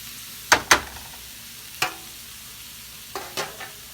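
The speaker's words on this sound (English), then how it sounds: "take these veggies, get them right in here, let them saute down" Vegetables sauté in a pan for a chicken casserole, with a quiet background sizzle punctuated by a few sharp clatters of spoon or ingredients hitting the pan.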